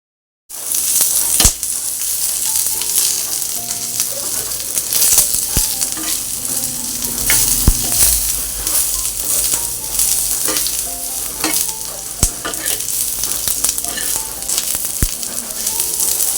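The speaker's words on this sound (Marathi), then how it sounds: "आता आपल्याला सुकं खोबरं भाजायचं आहे. सुकं खोबरं छान असं गोल्डन ब्राऊन भाजायचं आहे." Dried coconut roasted golden brown in a pan with sautéed onion, a loud continuous sizzle and crackle under frequent scraping and stirring strokes, steady throughout with no voices.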